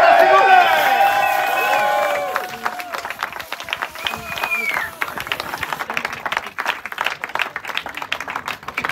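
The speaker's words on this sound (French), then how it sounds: "Applaudissements s'il vous plaît." Crowd applause breaks out after a French-speaking announcer's voice at an offshore sailing race finish ceremony for the Ocean 50 class, steady clapping continuing with scattered cheers and chatter.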